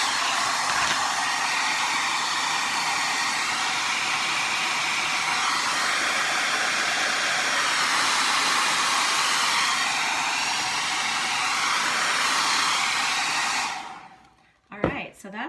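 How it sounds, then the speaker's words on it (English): A hair dryer blows steadily on chalk paste spread on a canvas, a loud, continuous whooshing roar close by that runs unbroken until it switches off near the end, followed by a few small clunks. "And now we're gonna blow this dry."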